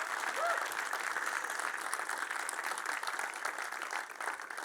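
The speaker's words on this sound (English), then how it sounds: "let's start as we mean to go on, please, with a huge round of applause" A conference audience at All Day Hey! 2025 applauds as speaker Lola Odelola is welcomed, a dense, continuous roar of clapping, steady and somewhat distant.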